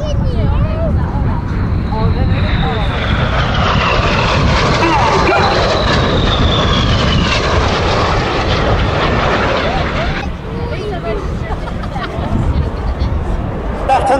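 Red Arrows jets performing a flying display at the Battle of Britain air show at Duxford, a loud continuous jet roar sweeping overhead throughout with a faint crowd murmur underneath, easing slightly near the end.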